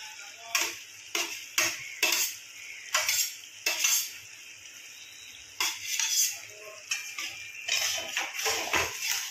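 A vegetable and fish dish is stirred and sautéed in a pan, with repeated sharp scrapes and metallic clinks of a spoon against the pan in an uneven rhythm over a faint sizzle, close by and without speech.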